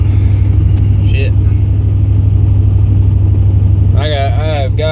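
A pickup truck badly in need of alignment drives along a road, giving a steady loud engine drone and road rumble throughout, with a brief voice near the end.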